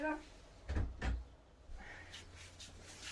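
An indoor door is opened to let a cat out, giving two close, dull thumps and a faint latch click, then quiet rustling.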